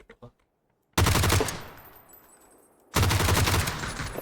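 Two sharp bursts of automatic gunfire from the video game PUBG Battlegrounds, each a loud, rapid volley that trails off, separated by a brief quiet gap.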